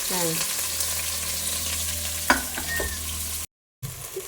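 Onions fry in hot oil with cumin, cinnamon and cloves, a close, steady crackling sizzle with a spoon scrape and clinks partway through, then a brief dropout before the sizzle resumes.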